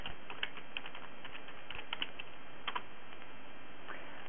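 Typing on a computer keyboard while searching the internet for PS3 themes: quick, irregular clicks and taps close by, fairly quiet and steady, with no voices.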